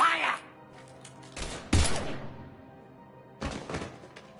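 Gunfire in the sci-fi shooter game Mass Effect 3: a few separate bursts of shots, one sharp loud blast followed by another cluster later, with background game sound and no talk in between.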